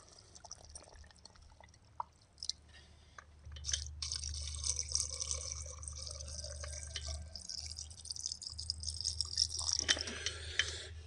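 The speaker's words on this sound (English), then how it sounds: "And then now it's time to add the water." Water pours and drips steadily into rock tumbler containers, faint at first, then a fuller trickle and splash close by that runs to the end, with no talk.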